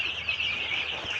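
Twenty-five-day-old tiger chicken chicks peep and cluck in a quick, overlapping chorus of high, thin calls, close and moderately loud.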